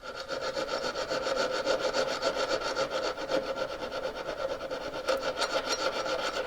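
Hand saw blade cutting through wood under firm pressure, a close, gritty rasping with rapid back-and-forth strokes that continue steadily without talk.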